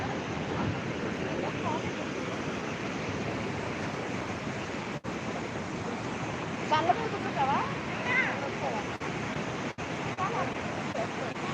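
Ocean surf rolls onto a rocky beach in the early morning, a constant washing roar with gusts of wind buffeting the microphone and voices faintly beneath.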